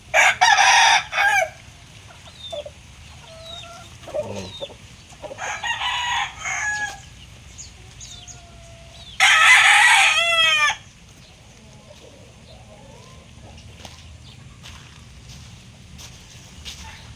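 Chickens and a rooster in a small fly pen on a farm, several loud nearby crows in separate bursts with softer clucking between them, over a quiet background.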